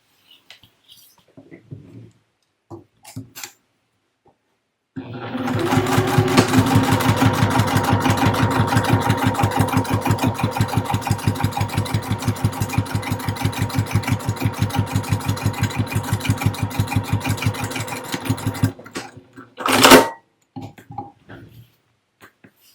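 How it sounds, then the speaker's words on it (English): A sewing machine stitches down the left-hand edge of a fabric panel with a 3/8-inch seam while making a 12-inch fabric storage box. It runs as a fast, even mechanical chatter for about fourteen seconds, with no talking. "Using 3/8 of an inch, I'm going to stitch down that left hand edge."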